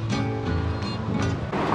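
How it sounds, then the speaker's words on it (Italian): Steady broadband rush of the Merced River flowing, with clear, cold water heard close by outdoors, a continuous wash with slight surges and no voices. "Qui abbiamo il fiume, il Merced River."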